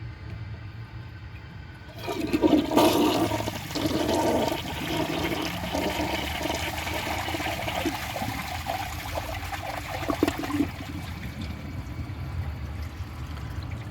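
An elongated toilet gives a weak flush, a rushing surge of water that settles into a long, steady trickle and refill, fairly close and without voices.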